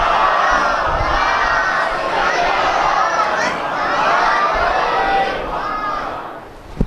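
A congregation at a Muharram majlis in Kanodar, Gujarat, recites salawat together in response, a loud, sustained chorus of many voices that swells and then tapers off near the end.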